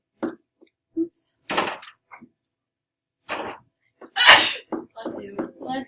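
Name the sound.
sneeze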